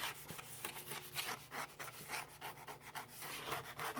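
Dried dahlia flower residue is scraped off heat-pressed, eco-printed nature-dyed paper in quick rhythmic rasping strokes, close and fairly quiet, with no talking.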